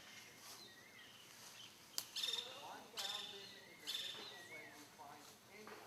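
A four-eyed owl calls during birding in Nicaragua, several short rising and falling hoots and whistles spaced a second or so apart, moderately near over a quiet outdoor background.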